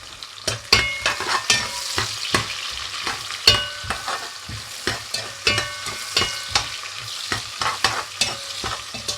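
Vegetables frying in a pan for a Jamaican-style vegetable dish, with a steady sizzle broken by frequent sharp clinks and scrapes of stirring, close and clear, no talking.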